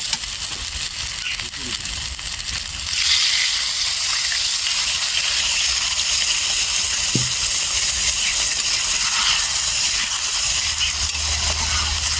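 Water poured into a hot pan of sautéed pointed gourd (potol) for a Bengali posto dish: after a few quieter seconds a loud, harsh steam hiss bursts up and holds steady to the end.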